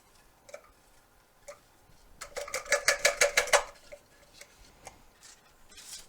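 Graham cracker crumbs are dumped into a number 7 skillet in a quick burst of dry, rattling clatter lasting about a second and a half, with a few light taps before and after.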